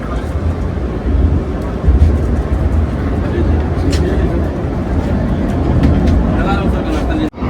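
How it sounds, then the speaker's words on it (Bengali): Train on the Srinagar route rumbling through a long tunnel, a loud, continuous low roar with faint rattling over it, steady for the whole stretch. "বাদ বাকি শুধু টানেলের মধ্যে দিয়ে ট্রেন যাচ্ছে"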